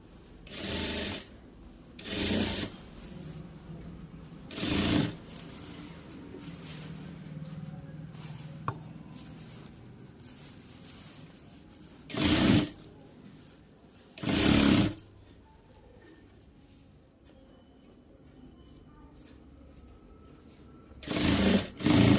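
A sewing machine stitches shiny satin cloth in short, separate bursts of whirring, about seven runs spread across a quiet background with long gaps between them.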